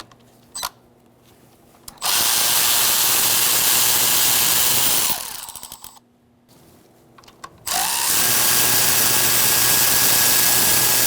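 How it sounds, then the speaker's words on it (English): A power drill with an 8mm socket whirs loudly in two sustained bursts, removing bolts from the intake manifold area of a 2000-2007 Ford Taurus 3.0L V6, with short pauses and clicks between runs. "Using an 8mm socket, you're going to remove these two bolts."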